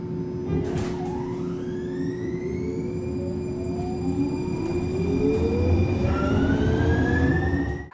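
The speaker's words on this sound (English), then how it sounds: "The doors are closing. Train departing." A Portland MAX light rail train pulls away, its electric motor whine rising steadily in pitch over a low rumble, with a steady tone ringing above.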